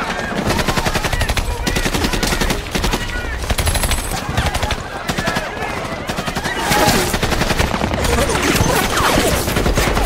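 Rapid bursts of gunfire and machine-gun fire crackle through a film sniper battle, loud and dense for the whole stretch, with heavier volleys near the end.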